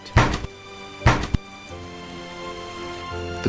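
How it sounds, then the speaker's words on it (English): Two heavy knocks on a door land about a second apart, followed by a quick lighter tap, then a low steady hum fills the quiet. "But the knock came again, more urgent."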